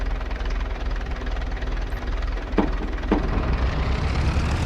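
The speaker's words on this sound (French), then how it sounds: "J'ai loué ce petit tracteur là." A small rented tractor in Farming Simulator 25 runs with a steady low engine drone throughout, loud and continuous, with a couple of brief knocks partway through.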